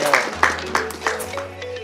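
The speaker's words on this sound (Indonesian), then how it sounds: "boleh tepuk tangan yang meriah" An audience applauds for the Bandung city council chairman at a journalist certification event in Bandung, with sharp claps in a loose, regular rhythm over a low steady hum.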